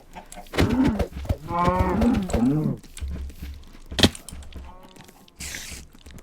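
A cow attacking the player in a horror-modded video game moos among other game sounds, with a sharp thud partway through and a brief hiss near the end.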